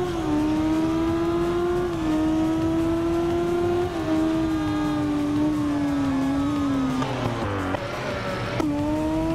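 Kawasaki Z1000 racing engine in the video game Ride 2, a loud sustained whine held steady through upshifts, dipping briefly before rising again near the end.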